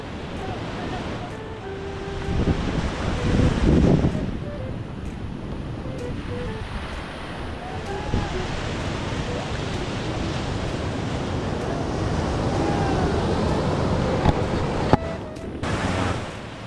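Ocean surf and wind roar together, swelling louder around the start and again later, with faint voices underneath the rushing water.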